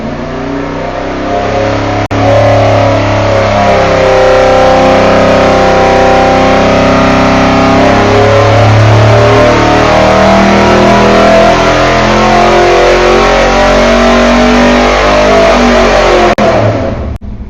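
A 500-cubic-inch stroker Mopar engine runs on a dyno, a loud, sustained roar that rises through a long full-throttle pull and stays heavy for most of the run before dropping off sharply near the end, with no voices.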